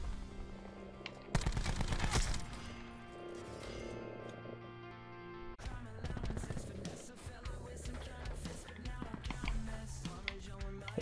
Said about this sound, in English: I hear a bunch of guns.